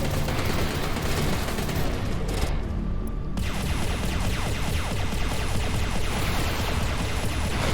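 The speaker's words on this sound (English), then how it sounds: "I'm actually really firing rockets now just to try and deal with this guy a bit faster" A spaceship fires rockets and weapons in the space combat game Everspace 2, a loud dense barrage of rapid blasts and booms that barely lets up, with a short thinner gap partway through.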